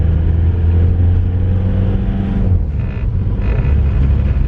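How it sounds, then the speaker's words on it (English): A mechanically injected turbo diesel Jetta with its intercooler disconnected, blowing boost into the open air while driving; the engine drones loudly and steadily up close, with a brief dip in revs partway through before it pulls again. "It makes cool turbo noises even though the intercooler isn't hooked up, so it's just blowing boost straight up in the air."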